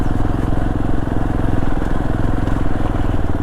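A Fantic Caballero 500 Rally motorcycle engine runs with a steady, loud, close thumping throb that holds an even pulse throughout, with no voices over it.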